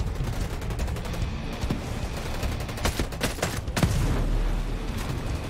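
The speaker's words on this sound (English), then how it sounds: "these artillery strikes are crazy" Artillery strikes in the video game Ghost Recon Breakpoint, a dense barrage of sharp blasts and rapid gunfire crackling over a steady rumble, with a heavier boom toward the end.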